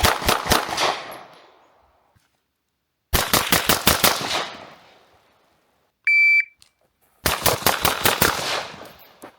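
Three rapid strings of about six loud gunshots each ring out at a shooting range with short echoing tails, separated by pauses, and a brief electronic beep sounds between the second and third.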